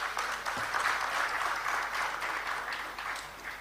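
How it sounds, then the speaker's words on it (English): An audience at the Kasapreko PLC listing ceremony on the Ghana Stock Exchange gives a round of applause, a fairly faint, steady patter of many hands that swells slightly and then tapers off. "Another round of applause for my MD."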